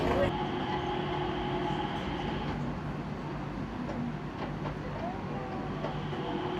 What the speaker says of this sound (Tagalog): So ayan na yung train, papasok na siya doon sa Jewel